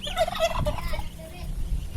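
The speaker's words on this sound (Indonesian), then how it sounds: "Alhamdulillah aneh punya 3 ayam kalkun" Three domestic turkeys gobble in a yard kept with ducks, their rapid warbling calls repeating close by over a busy background.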